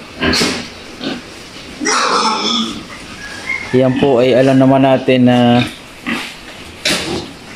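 Pigs grunt and squeal in short bursts on a pig farm near a person speaking, with a few faint insect or bird chirps in the background.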